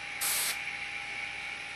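A short, close burst of airbrush paint spray onto paper, a breathy hiss lasting about half a second over a steady background hum.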